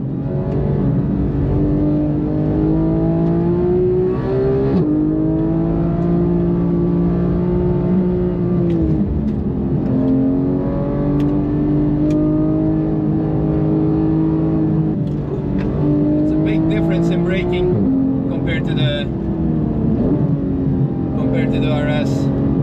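A Porsche 991.1 GT3 on PS4S tires drives along, its engine rising and falling through several rev sweeps, loud from inside the car, with someone talking over it.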